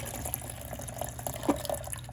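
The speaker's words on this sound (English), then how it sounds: "I pour the fixer back into that same container that I got it out of." Photographic fixer poured back into its storage container, a quiet trickle with small drips and splashes, close by and faint, no talking.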